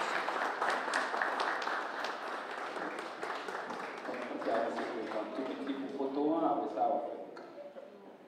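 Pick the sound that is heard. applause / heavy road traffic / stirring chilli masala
applause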